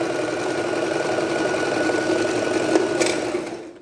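A sewing machine sews a straight stitch on a child's bomber jacket, a continuous close whirring hum that runs steadily for nearly four seconds before winding down.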